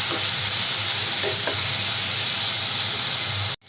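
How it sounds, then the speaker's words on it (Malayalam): Tomato masala with asafoetida stirred in a pan for tomato rice, giving a loud, steady hiss and sizzle with faint scraping, cut off abruptly at the end. "ഒരു കാൽ ടേബിൾ സ്പൂണോളം കായപ്പൊടി ചേർത്ത് കൊടുക്കാം നന്നായിട്ട് ഇളക്കി യോജിപ്പിച്ച് കൊടുക്കാം"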